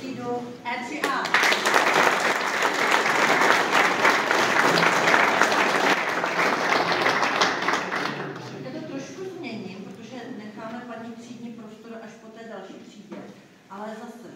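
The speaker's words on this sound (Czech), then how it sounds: "Potlesk pro třídu E3A." A crowd at an apprenticeship certificate ceremony gives a loud burst of applause for class E3A. The clapping swells, holds, then fades out as people start talking.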